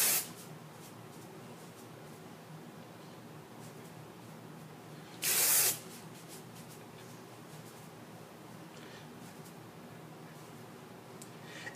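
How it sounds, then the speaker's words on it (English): Hairspray is sprayed at the hair roots in one short hissing burst of about half a second, with near-silence before and after and a faint click at the very start. "I'm going to spray at the root, and then just kind of tousle that around"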